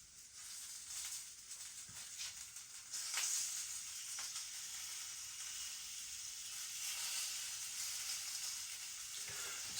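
Sausages sizzle in a pan with a steady, continuous hiss and crackle that swells slightly partway through. No voices are heard over it.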